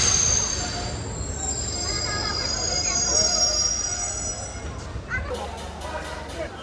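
Local passenger train rolling on rails near Sabroom, with steady wheel rumble and high metallic wheel squeal running throughout, loud and close; a shift in the rumble near the end, with voices faintly mixed in.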